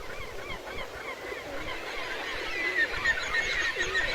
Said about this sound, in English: a pair of kittiwakes right in their midst start arguing about who owns that rock.